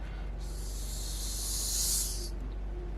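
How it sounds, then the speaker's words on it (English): A swelling hiss of a reversed crash cymbal rises steadily and cuts off abruptly, over a low steady hum. "Like that crash I added to introduce us to the first verse, I reversed it"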